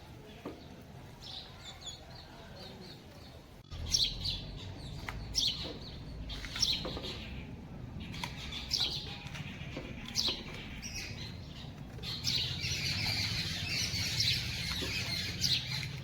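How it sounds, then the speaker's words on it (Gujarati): Scattered evening bird chirps and calls ring out over a low background hum, some close and sharp, others softer in the distance. "પક્ષીઓ બોલે છે અસલ મજાનું"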